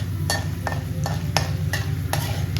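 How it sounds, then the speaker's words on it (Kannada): Urad dal and chana dal fry in a pan as a spatula scrapes through them in about six regular strokes, each a short, sharp rasp over a steady low hum. "ಉದ್ದಿನಬೇಳೆ ಸ್ವಲ್ಪ ಕಡಲೆಬೇಳೆ ಚೆನ್ನಾಗಿ ಫ್ರೈ ಮಾಡಬೇಕಿದು."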